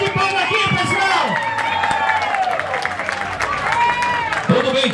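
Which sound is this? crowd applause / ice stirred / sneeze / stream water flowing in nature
crowd applause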